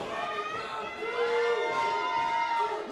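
A wrestling crowd cheers and shouts at the 880 Wrestling show as Duke Davis returns to the ring, a loud, dense roar with whistles and rising voices sustained for a few seconds.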